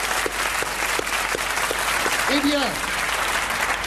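A French TV game-show studio audience applauds as the day's contestant is welcomed, a steady wash of clapping, while a host's voice speaks over it.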